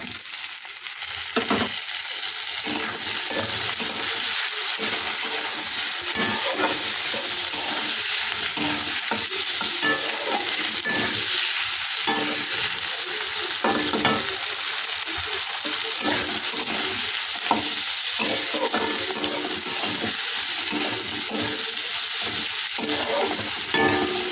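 Tomato frying with green chillies in a home kitchen pan, a steady broadband sizzle running throughout with intermittent stirring scrapes, close and fairly loud, no voices.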